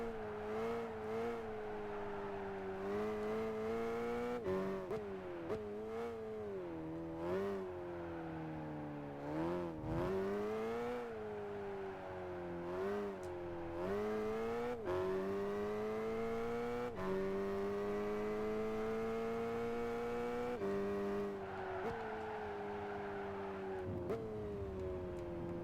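Race car drifting through a corner in Gran Turismo 5 during the Polyphony Digital Cup, a sustained engine whine rising and falling with shifts and revs, tire squeal blended under the continuous motor tone.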